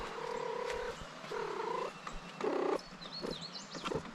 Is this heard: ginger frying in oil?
no